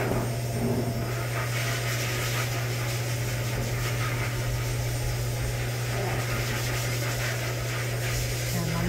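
A steady, loud blowing roar with a constant low hum runs unbroken throughout, from a pet blow dryer running close by during dog grooming.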